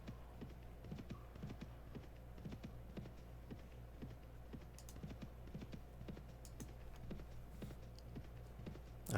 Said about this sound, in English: clatter and jangle of the horses riding into battle